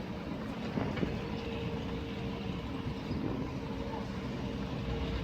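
A train rumbles steadily through Sittingbourne station on the Chatham Main Line, with a continuous rolling roar and faint rail clicks heard throughout at moderate distance.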